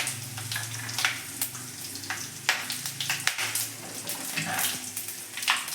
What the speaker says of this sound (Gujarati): હવે આપણે હિંગ પણ વઘારની અંદર નાખી દઈશું